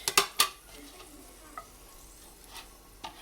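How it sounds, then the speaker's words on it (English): Vegetables sautéing in a pan for a home Christmas meal, a few sharp clinks of a utensil against the pan at the start, then scattered soft scraping and stirring taps over a quiet sizzle, close and without talking. "We're not going to brown it. We're just going to saute it"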